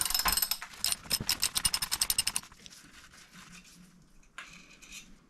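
A tool unscrews a square taper bottom bracket (BB-UN300) on a bicycle, giving a rapid ratcheting series of metallic clicks that slows and fades into softer scraping and grinding.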